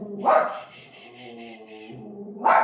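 A dog barks at trees moving in the wind, two sharp close barks at the start and end with a softer whining yip between them.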